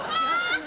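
A human voice imitates the noise a cat makes while digging its claws into a lap, a sustained nasal, honking yowl lasting under a second, loud and close with no other talk.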